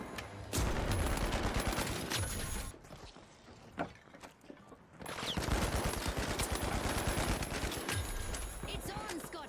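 Rapid bursts of automatic gunfire in The Finals rattle loudly with mechanical clacks, breaking off into a brief quieter gap with scattered single shots before the dense firing resumes. Voices talk underneath.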